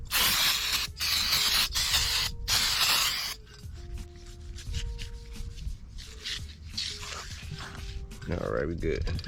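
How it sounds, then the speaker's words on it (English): Brake cleaner hisses in three long, loud spray bursts onto the front brake rotor of a 2013 Ford F-150, followed by shorter bursts and handling noises as a person talks. "you wanna take your brake clean and just come around"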